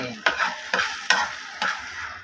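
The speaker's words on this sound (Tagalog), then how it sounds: "Ginisang ampalaya na naman tayo na may itlog at pritong isda." Bitter gourd sizzles steadily in a hot pan while a utensil scrapes and stirs it four times at a slow, even pace.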